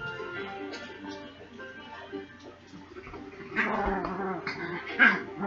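Pet dogs whine and whimper for attention indoors, soft intermittent cries with a louder yip near the end, heard over faint background game sound.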